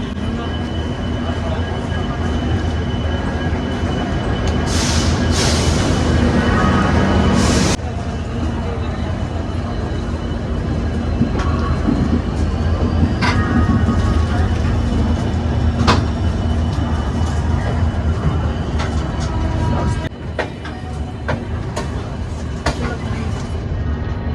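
The 12073 Jan Shatabdi Express pulls out of Howrah platform 19 at sunset with a steady low rumble and rhythmic wheel clatter, while a voice talks over the rolling train.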